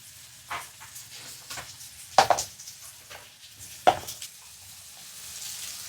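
Onion and tomato fry in oil with a soft, steady sizzle, broken by a few sharp stirring clatters of a utensil against the pan.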